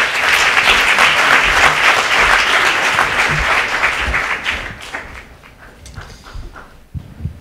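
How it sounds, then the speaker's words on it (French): Loud, dense applause from a crowd, steady for several seconds before thinning out and fading to scattered claps. "Mesdames et messieurs, merci d'applaudir sur scène Monsieur Nicolas Bouzou."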